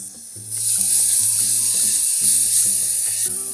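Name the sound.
spice paste frying in oil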